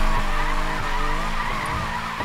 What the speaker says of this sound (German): Wollt mal einen Burnout probieren hier?